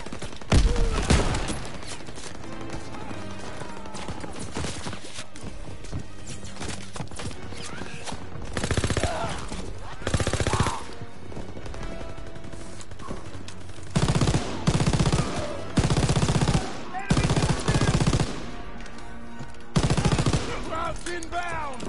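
Bursts of machine-gun fire from a hayloft in a WWII shooter game, loud and close, coming in repeated rattling volleys with gaps between them amid general battle noise.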